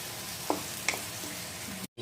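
Thinly sliced onions sizzle as they are stirred into hot oil in a pan for a prawn bhuna, with a steady broadband hiss, a couple of sharp spoon clinks, and a sudden brief cutoff near the end.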